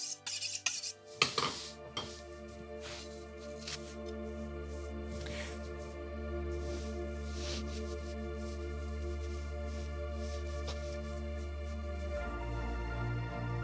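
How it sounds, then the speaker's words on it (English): Knife work through lamb racks on a board, portioning them into individual chops: faint scraping and knocking with a few sharper clacks near the start, then a low steady hum beneath quiet, intermittent cutting sounds. "Lamb racks, like I told you before, we're gonna cut them individually."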